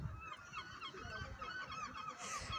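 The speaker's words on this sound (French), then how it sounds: "je vais vous montrer le copain goéland" A seagull on the coastal route to Fisterra calls with a series of quiet, honking cries over soft background noise, and no speech.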